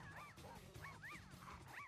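Several dogs in a Powerpuff Girls cartoon yip and bark in quick, overlapping bursts, with whimpering tones over a steady low background hum.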